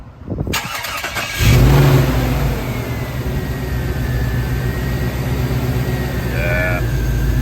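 A hot rod car engine cranks, catches and fires up loudly nearby, then settles into a rough, rumbling idle with a rising whine, as people talk over it.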